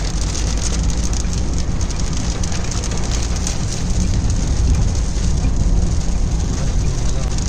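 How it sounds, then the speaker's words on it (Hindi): Steady, dense rain patters continuously on a car, a loud unbroken hiss with low rumbling underneath, heard from inside the vehicle while driving on a road. "बारिश देखो कितनी मज़े की होनी शुरू होगी।"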